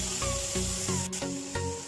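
Vinegar splashed onto vegetables with cabbage in a hot pan for pasta, giving a steady close sizzle with faint stirring scrapes throughout, no voices.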